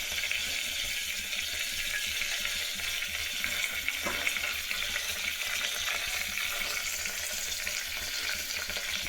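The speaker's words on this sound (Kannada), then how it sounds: "ಸಾಸಿವೆ ಇವಾಗ ಒಂಚೂರು ಚಟಪಟ ಅನ್ನೋ ತನಕ ಅದನ್ನೊಂಚೂರು ಹಾಗೆ ಬಿಡಿ." Mustard seeds spluttering and crackling in hot oil for a tomato rasam, a steady dense sizzle with scattered pops, close and fairly loud throughout with no talking.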